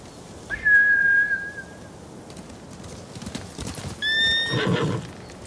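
Samurai horses in the Ghost of Tsushima video game give two loud, shrill neighs, one near the start and one near the end. Hooves clip-clop in a galloping rhythm between and beneath them.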